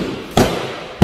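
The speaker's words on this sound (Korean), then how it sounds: "구멍망치를 쳐서요." A hammer strikes a gypsum board wall twice, each a sharp, loud thud-crack a little over half a second apart, with quiet room tone between the blows.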